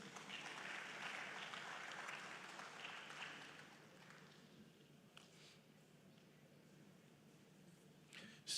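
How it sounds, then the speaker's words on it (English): An audience at a trade fair signing ceremony applauds; a dense patter of clapping for about four seconds, then fading to quiet room tone. "A round of applause, please."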